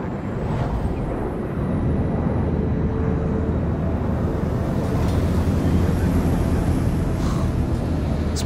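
Inside a plane in the Splinter Cell: Blacklist game, a dense, steady airplane engine drone rumbles low and constant throughout, loud and enveloping with no speech on top.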